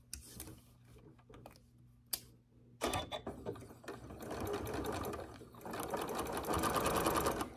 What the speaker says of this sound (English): now I'm just going to sew straight down with a 1/4 inch seam all the way down here